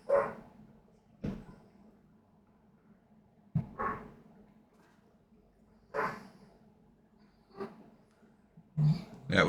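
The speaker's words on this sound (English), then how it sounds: "That would be the puppy." An excited puppy barks in sharp, spaced bursts, about six or seven over several seconds, moderately distant in an otherwise quiet room as the family arrives home.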